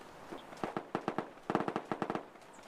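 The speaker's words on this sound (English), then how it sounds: "Bunch of gunshots that way." Video game gunfire: rapid bursts crack in quick succession, two volleys of sharp shots at a steady rhythm, moderately loud with a slight distant echo.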